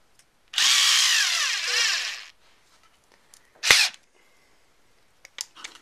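A power drill whirs loudly for under two seconds while driving blind nuts into a model airplane firewall, followed by a short second burst and a few small clicks and knocks in a quiet room.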